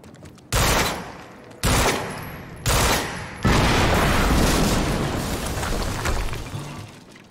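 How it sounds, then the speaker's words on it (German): Explosions and gunfire erupt in the video game Quantum Break, three sharp loud blasts in quick succession followed by a sustained roaring burst of fire that slowly fades. "es gab gerade eine Explosion in der Nähe der Gewinnungsanlage"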